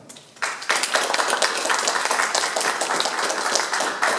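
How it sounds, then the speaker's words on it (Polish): An audience at the opening of Olga Langowska's painting exhibition breaks into applause after a quiet instant, the clapping swelling quickly into a lively, sustained patter of many hands. "Jeszcze raz wielkie brawa"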